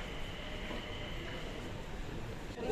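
Steady low rumble of a train in motion, continuous and even throughout, heard from inside or close by.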